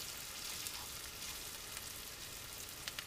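Onions and jalapenos frying in olive oil, a steady close sizzle and crackle with faint pops throughout, no voices.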